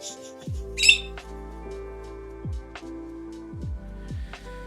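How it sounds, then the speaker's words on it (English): Pet birds squawk indoors with one loud, harsh burst and a few fainter calls, mixed into a steady background of low tones and intermittent clicks. "my birds are very angry today"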